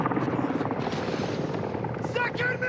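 A military helicopter thrums steadily in Call of Duty: Modern Warfare 2 during a missile attack, a close continuous rotor roar under urgent radio voices and shouting.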